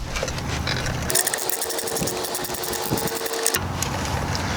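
Mechanical clicking and ratcheting while an exhaust pipe clamp and bolts are loosened on a Honda Rebel 500 muffler, steady close work noise with a faint whine in the middle.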